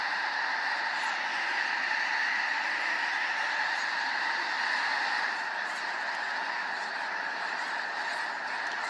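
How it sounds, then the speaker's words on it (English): Snow geese and Ross's geese in a winter wetland give a dense, continuous chorus of honking calls from a large flock, steady and fairly loud throughout with no voices. "Snow geese and Ross's geese are among the more numerous birds that migrate to the valley each"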